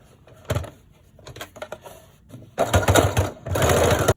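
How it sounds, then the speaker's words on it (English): A sewing machine stitches fabric for a surgical cap, with a few short whirring bursts and then a louder, steady run of rapid stitching up close. "now we're going to sew this long piece all the way around the circle"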